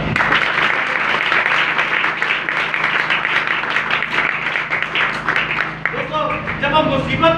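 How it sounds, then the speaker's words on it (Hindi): A church congregation claps loudly and steadily for Jesus at a worship gathering, a dense roar of applause that runs for several seconds before thinning near the end. "यीशु के लिए एक बार जोरदार ताली।"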